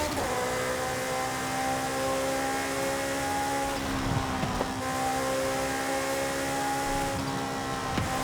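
Ferrari F8 engine in the racing game Forza Horizon 5, a loud, continuous revving drone with strong tonal layers that dip and rise in pitch as the car accelerates, heard alone without commentary.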